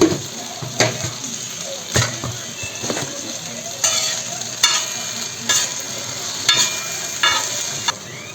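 Tomatoes with salt cooking in a pan for tava pulao, a soft steady sizzle broken by periodic scraping stirs of a spoon against the pan.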